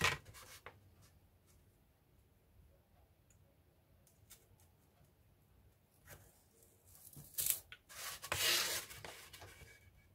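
A small 3 centimeter square is cut from material for a model Hesco barrier: soft scratching and rubbing up close, then louder rasping snips and scraping toward the end, with no voices.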